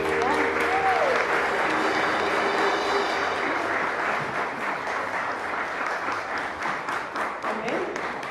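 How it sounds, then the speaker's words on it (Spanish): Church congregation applauding after a prayer, a dense steady wash of many hands clapping for several seconds, close and loud, with a voice speaking briefly over it and the clapping thinning toward the end. "Y le damos aplausos a nuestro Padre Celestial."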